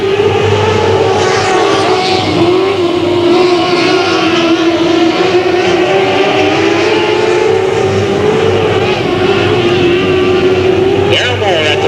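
Race cars roar together at the green flag on a speedway oval, a loud continuous engine drone with rising pitch that holds steady throughout, an announcer talking over it.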